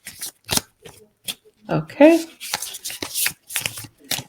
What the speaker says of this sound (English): Cards are a bit stiff right now as I shuffle them